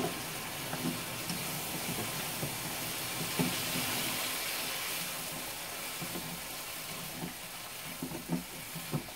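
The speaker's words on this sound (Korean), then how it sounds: "당면을 삶아서 볶는 거예요." Glass noodles stir-fry in a hot wok for japchae with steady sizzling and hissing, soft scraping stir sounds and occasional clicks, close and continuous without talk.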